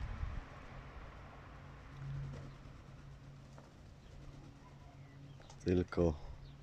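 Quiet background with a faint murmur, then two short bursts of close pigeon cooing in Budapest near the end.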